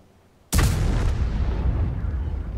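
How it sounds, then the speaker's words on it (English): A single heavy artillery shell blast in World of Tanks, erupting suddenly after near silence and rolling on as a long, loud, rumbling decay. "he knows that artillery's going to try and hit him again"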